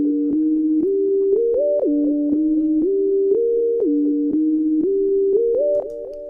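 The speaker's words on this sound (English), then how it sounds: "In this case, I played some type of synth, just kind of a main type of sound." A synth plays the main melody in a hip-hop beat-making tutorial, with sustained tones stepping up and down in a repeating pattern, loud and alone with no talk.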